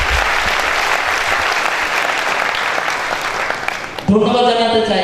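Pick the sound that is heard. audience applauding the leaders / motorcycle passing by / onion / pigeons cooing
audience applauding the leaders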